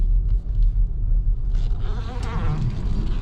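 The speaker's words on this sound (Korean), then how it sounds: "이게 타이어 때문에 노면 소리가 많이 나네요." A used imported car on a test drive produces a steady, loud low rumble of tire and road noise from inside the cabin, with a faint higher whine rising over the middle stretch.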